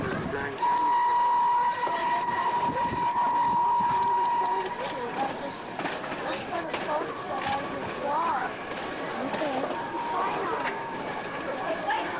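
A steady steam locomotive whistle sounds loudly for several seconds, then fades into crowd chatter and the rumble of a steam train at a station platform.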